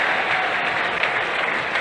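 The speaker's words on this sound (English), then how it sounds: "Huge cheer for Andre the Giant." A rugby stadium crowd at a Harlequins versus Cardiff Rugby match roars and applauds as substitute Andre Esterhuizen comes on, a dense, steady wall of cheering and clapping that holds loud throughout.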